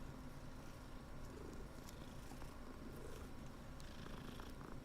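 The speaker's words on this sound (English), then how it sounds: "There's a kitty." A cat in Hogwarts Legacy purrs continuously, a low rolling rumble running the whole time at a close, soft level with no voices.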